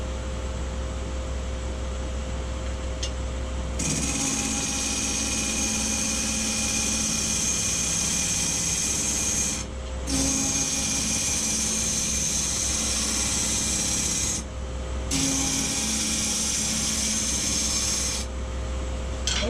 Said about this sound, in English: I'm going to finish turning the inside and then I'm going to turn the outside.